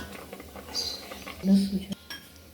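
Chutney is being pounded for tandalja bhaji. A few close, quick knocks and clinks of kitchen utensils sound over about two seconds.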